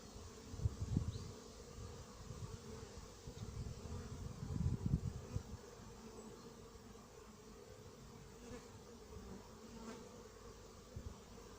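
Many bees buzzing around a hive beside an anti-hornet tent in Montgeron in September, a faint continuous drone with a few louder passes close by early on.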